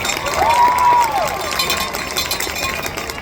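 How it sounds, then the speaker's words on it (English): An audience claps and cheers at a school homecoming court ceremony, a moderate burst of applause that swells early and then gradually thins out. "Please give a round of applause for Evie Freeman and Simeon Caldwell"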